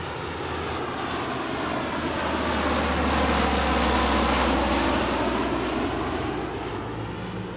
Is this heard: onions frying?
no